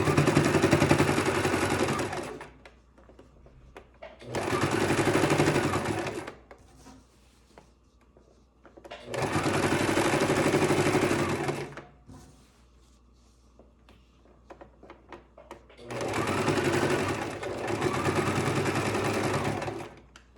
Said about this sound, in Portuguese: Agora vamos costurar pelo lado cinza